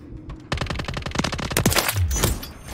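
Rapid automatic gunfire in Call of Duty Modern Warfare 3, a loud, dense burst of shots fired in quick succession, continuing close and alone for a couple of seconds.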